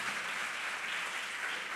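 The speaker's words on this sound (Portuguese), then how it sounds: "Você pode aplaudir o Senhor" A church congregation applauding, a dense steady wash of many hands clapping together, continuous and fairly loud with no voices standing out.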